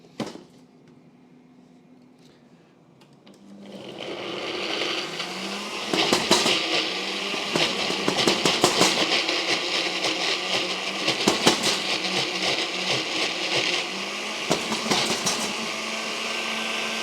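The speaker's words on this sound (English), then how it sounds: "And then I'm just going to cover it up and blend it up" A blender runs loud and steady after a quiet start, whirring through a mixture with olive oil for a celeriac and kale puree, its motor note rising and pulsing briefly as the jar contents churn.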